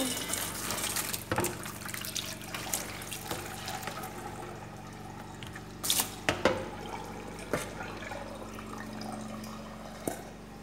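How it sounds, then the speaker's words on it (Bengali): Water poured lightly into green chilies, onion and garlic, heard as soft close trickles and drips with a few sharper splashes over quiet room noise; no talk. "এর ভিতরে হালকা পানি দিব"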